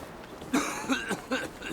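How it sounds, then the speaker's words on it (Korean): A woman coughs in a dramatized scene, several short harsh coughs spaced about half a second apart, close and fairly quiet against a still background. "계속되는 기침"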